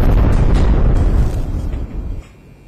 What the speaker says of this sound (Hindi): तभी उनकी आंखों के सामने कई धमाके हुए